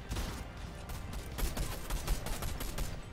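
A newly added gun in the Fortnite video game fires rapid bursts of automatic gunfire, with shots crowding together over a few seconds and no speech.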